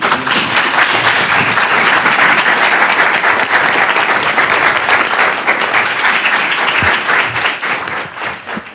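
A lecture-hall audience applauds after a speaker series conversation on race and racism, dense sustained clapping that holds steady and then tapers off at the end.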